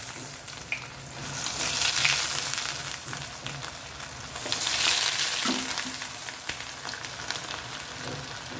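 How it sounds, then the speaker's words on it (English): Green pea cutlets deep frying in hot oil give a continuous bubbling sizzle that swells and eases, moderately loud and close, with occasional faint clinks and no talking. "Let us deep fry the cutlet"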